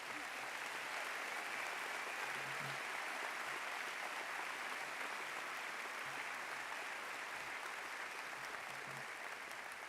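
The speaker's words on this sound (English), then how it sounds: "Would you give them one more round of applause?" A large audience at a university spring commencement ceremony gives a steady, unbroken round of applause, filling the hall evenly and heard from a distance, with faint voices underneath.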